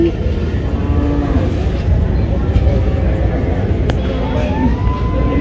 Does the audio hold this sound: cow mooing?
yes